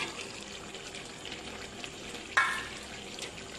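Potatoes tipped into a frying pan of chicken, a faint steady sizzle with one sharp hissing splash partway through that fades back into the low background frying.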